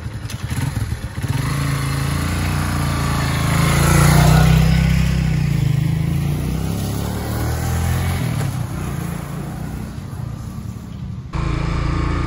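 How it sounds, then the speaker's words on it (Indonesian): A Kawasaki W175 classic motorcycle being ridden, its engine droning steadily and loudly up close for the whole stretch, swelling in the middle as it pulls harder, with no voices over it. "Kita lakukan tes bagaimana performance motor klasik ini."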